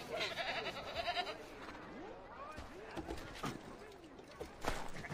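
A goat bleats in Assassin's Creed III, several short wavering calls in quick succession, fairly close and moderately loud, with someone talking over them.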